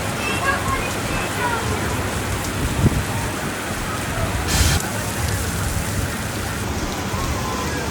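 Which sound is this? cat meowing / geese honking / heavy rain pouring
heavy rain pouring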